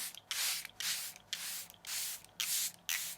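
Six quick bursts of fine makeup setting spray mist out in an even rhythm, each a short airy hiss separated by brief pauses.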